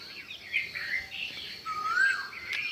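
Sparrows chirping on a morning in rural Maharashtra, several short bright calls and one longer sweeping note close by, with faint devotional music far in the background.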